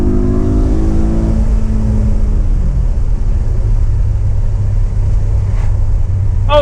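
A BMW E92 M3 engine at full throttle, its note sweeping upward in a loud continuous rev toward 8,000 RPM, close and sustained with no talking.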